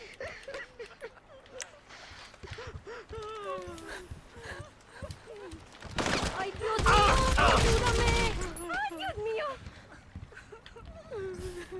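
Rapid gunfire emptying a magazine in GTA 5 Online, a dense roaring burst of shots lasting about two seconds in the middle, with someone talking before and after it.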